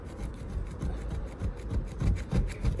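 A plastic ice scraper rubs against a car emblem in steady, close scraping strokes that repeat for a few seconds with no voices.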